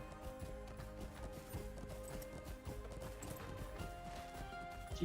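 Horse hooves clip-clop in an online video game, a busy rhythmic stream of hoofbeats mixed with dense in-game clatter and background noise, fairly quiet throughout.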